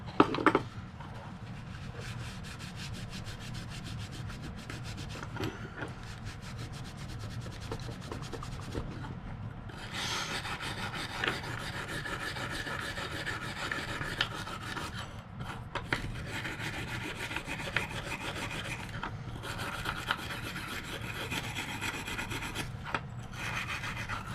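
Steady rasping and rubbing as grease softened with penetrating oil is scrubbed off a PENN Super Mariner saltwater trolling reel, close and continuous with brief pauses, no voices.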